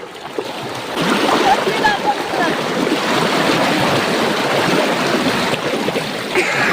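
Strong river current rushing in a Sundarban river, a broad steady wash of water noise close by, with voices talking over it.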